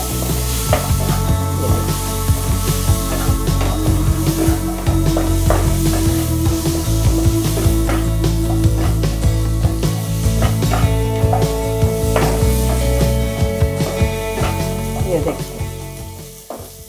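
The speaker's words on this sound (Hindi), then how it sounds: "गट्टे जो मैं फ्राई कर कर रखी थी. सारे को मैं इस तरह से इस पर डाल दूंगी." Fried gram-flour gatte dumplings tumble into a hot pan and sizzle loudly and steadily, with stirring and scraping against the pan, the sizzle fading slightly near the end.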